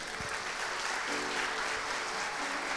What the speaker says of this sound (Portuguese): Salve de palmas para a Pati, gente, né?